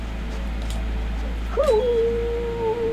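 A wolf in Metal Gear Solid: The Twin Snakes lets out a single long, rising-then-steady howl over a constant low game hum, with faint yips just before it.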